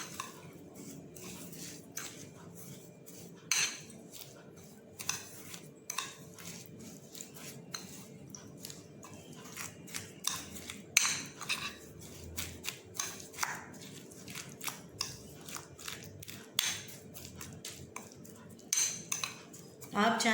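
A spoon stirs powdered sugar into a sweet mixture in a bowl, giving repeated light clinks and scrapes against the dish in an irregular rhythm, close and fairly quiet, with no talking.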